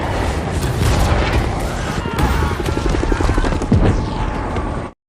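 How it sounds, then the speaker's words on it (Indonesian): An attacking helicopter in a Maze Runner film battle scene, a loud, continuous rotor roar packed with booms and bursts of gunfire, dense and close throughout before cutting off abruptly. "tiba-tiba ada helikopter Wicked yang nyerang"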